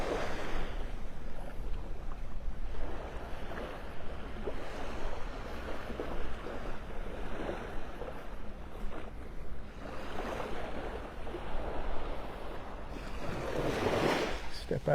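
Surf washing onto the beach at North Naples, Florida, a steady broadband rush of breaking waves with wind noise buffeting the microphone throughout.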